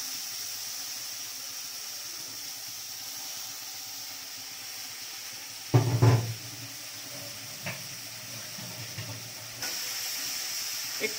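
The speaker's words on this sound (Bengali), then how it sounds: "দেখো এবার চিংড়ি মাছগুলো ভেজে নেওয়া হবে এঁচোড়ের জন্য" Shrimp frying in oil in a wok for a jackfruit dish, a steady soft sizzle and hiss with a sharper clatter burst around the middle and a few small knocks, no talking.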